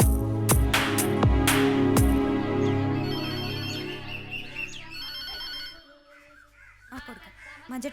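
A phone rings in a Malayalam comedy film scene, a repeated electronic ringtone that sounds loudly under talk and other sound before stopping.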